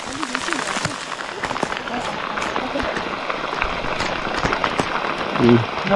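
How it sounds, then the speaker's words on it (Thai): Rain falls continuously in a thick, noisy patter with scattered sharper drops, while indistinct voices rise faintly near the end. "ทุกคนก็ฝนก็ตกตลอดเลย"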